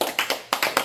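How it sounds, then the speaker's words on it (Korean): A church audience gives a short burst of encouraging applause, a handful of sharp, close hand claps in quick succession. "격려의 박수 한번"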